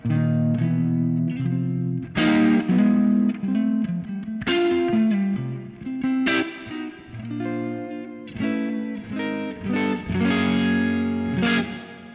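Distorted electric guitar through a Line 6 Stadium XL plexi amp preset plays a driving riff of chords and single notes, loud and continuous, with crunchy overdrive and a bit of reverb.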